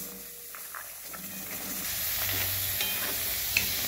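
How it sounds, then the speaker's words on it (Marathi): Cluster beans dry-roasting in a kadhai on a gas stove give off a soft, rising hiss and faint crackle, growing louder as the pan heats, with light scraping stirs and no talking. "कढईत गवारी ओतून भाजूया।"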